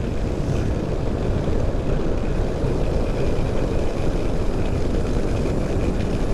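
A Voge 525DSX adventure motorcycle ridden along a road, its engine a steady, loud drone with heavy wind rush blending into one continuous roar that never lets up.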